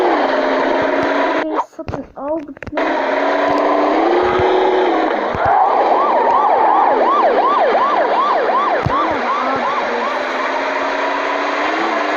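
In a car simulator video game, a wailing police siren rises and falls steadily over loud, continuous engine noise, with a brief break near the start.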